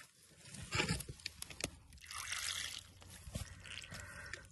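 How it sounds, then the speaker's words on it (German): Water trickles and splashes out of an opened drain valve at the lowest point of a well's pipework, a quiet, uneven flow with small patters and gurgles. "wenn hier das Wasser aufhört zu laufen, dann ist alles leer"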